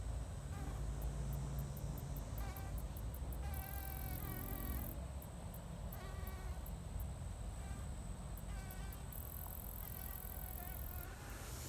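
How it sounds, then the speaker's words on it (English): Bees buzz while pollinating hairy indigo flowers at a Florida lakeside park, a faint, uneven drone rising and falling in short bursts, joined by a high, pulsing insect chirr. "Some of the bees pollinating."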